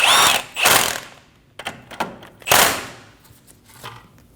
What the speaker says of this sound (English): Using a 19mm socket, we're going to snug down the outer tie rod nut.